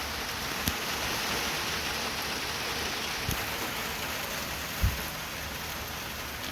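Steady rain falls in a dense, even hiss, with a few louder drops striking nearby and no voices.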